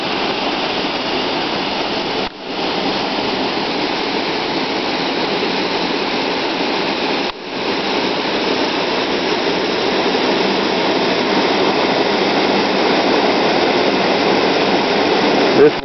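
A waterfall in the Trujillo Meadows campground roaring steadily and loudly up close, with an unbroken rush of falling water that dips briefly twice.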